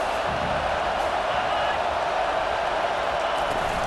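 A college football stadium crowd makes a continuous, dense roar with no breaks or distinct peaks, heard as a steady wash of noise.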